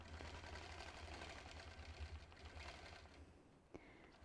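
A sewing machine doing freehand quilting with the channel lock on for straight lines, a quiet steady mechanical whir of stitching that runs for most of the clip, then stops near the end.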